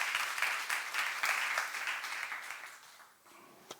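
Congregation applause during a youth-service sermon at a church, a dense steady wash of many hands clapping that gradually thins and fades toward the end, with a few last isolated claps.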